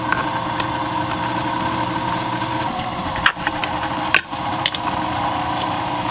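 A pump grinds fish food and nori sheets into DIY refrigerated fish food, a steady motor hum and drone with a couple of brief knocks and dips midway.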